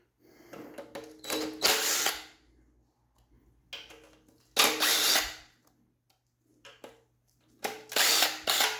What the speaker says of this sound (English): I'm going to cheat by using an impact drill because there's so many of them